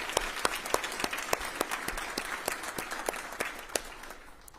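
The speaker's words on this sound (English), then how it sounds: "join me, everyone, in welcoming him with a warm applause." An audience at the Mayor of Harrisburg's State of the City address gives a short burst of applause, distinct sharp claps rising and fading over a few seconds with no talk over them.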